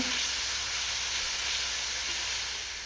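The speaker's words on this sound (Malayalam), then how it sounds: "നന്നായിട്ട് വഴറ്റി കൊടുക്കുക." Onions and masala sauté in a pan for Kerala-style egg curry, making a steady, close sizzling hiss that holds evenly and tapers slightly at the end, with no talk.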